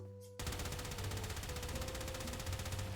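A gun in the video game Warframe fires laser and ballistic projectiles together in a loud, continuous stream of rapid shots that begins abruptly after a brief quiet moment and holds steady to the end.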